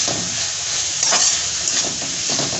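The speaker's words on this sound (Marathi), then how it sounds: "चांगलं असं मस्त याला एकदम फ्राय होऊन द्यायचं" Soybean chunks frying over high heat in a pan, giving a steady close sizzle and hiss with light stirring scrapes, no talk.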